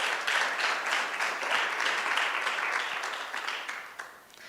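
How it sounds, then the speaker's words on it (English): A crowd at a guide dog school graduation claps for volunteers and donors, a sustained round of applause from a sizable audience that holds steady, then thins and tapers off near the end. "So can I get a round of applause for our volunteers and our donors?"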